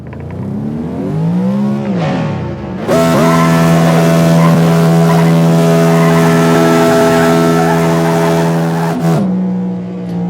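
A turbocharged drag race car in a racing video game revs loudly, then launches in second gear with a long, steady, droning engine roar that holds close and loud before cutting off and settling into an idle.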